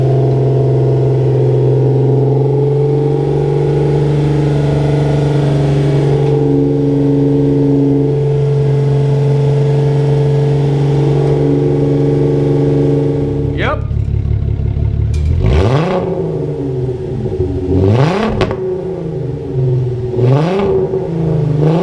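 A Volkswagen Mk4 with a VR6 engine held near 2,000 RPM, loud and steady at first, then a few sharp revs rising and falling with an aftermarket exhaust tip, close by.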